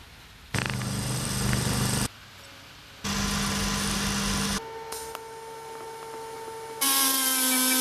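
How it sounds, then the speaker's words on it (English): Lathe machining a custom coilover spring perch flat, loud bursts of cutting noise separated by quieter spindle hum, ending in a high, ringing cut. "I'm going to chuck it in the lathe and machine it flat."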